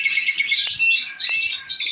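A caged aviary bird sings a bright, continuous warbling song of rapid high chirps and trills, close and clear with a few short breaks.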